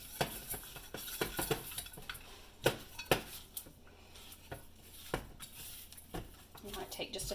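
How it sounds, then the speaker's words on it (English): A spoon stirs a thick cream cheese mixture for jalapeno popper chicken, with scraping clinks against the bowl coming in irregular bursts. Some talking is heard around the stirring. "I'm going to take my spoon and I'm going to mix my cream cheese mixture up"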